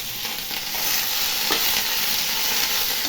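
Curry leaves sizzle in hot oil for karuveppilai kuzhambu, a loud, close, continuous frying hiss with a soft stir or rustle partway through and no talking.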